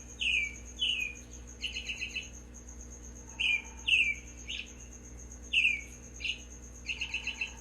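Recorded bird calls from a handheld bird-song learning device, such as a woodpecker, robin or cardinal, play as repeated bright chirps and short trilled phrases in clustered bursts over a steady electronic hum, with no talking.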